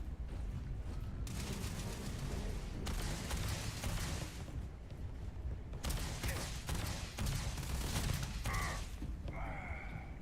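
A gun in the video game Space Chill Inc fires repeated rapid bursts in several blocks, loud and close, with short gaps between them over continuous game noise.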